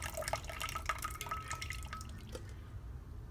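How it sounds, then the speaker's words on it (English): Herbal steam liquid is poured from a container into a pot, making soft, faint trickling and dripping splashes that fade out after a few seconds. "I'm just going to take the water, the liquid from it, and pour it into my pot"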